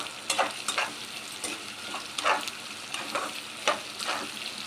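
Sliced onions fry and are stirred in a pan, giving a steady close sizzle with repeated scraping stir strokes and no voices.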